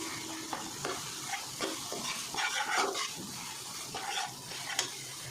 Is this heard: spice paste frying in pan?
yes